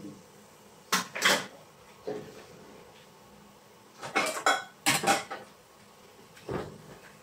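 Pots, pans and metal utensils clatter in a home kitchen while cooked noodles for a pork stir fry are drained in a strainer, with several short bursts of clanking spread across the moment and quiet between them.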